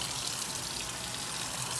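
Tap water runs steadily into a washing machine tub at low water pressure, a continuous close hiss and gush of filling water with no talking.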